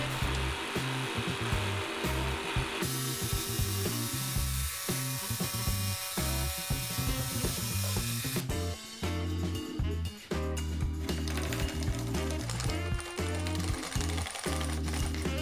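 Multi-function woodworking machine sawing wood to make a drawer handle, a loud, steady close-up power-tool roar with grinding cutting texture that shifts in pitch partway through and runs without a break.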